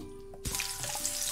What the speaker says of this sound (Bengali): সে আলুগুলো ভেজে নিব।